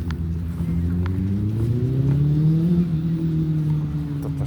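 A loud small motorbike engine drones up close, its pitch rising and falling as it revs steadily throughout.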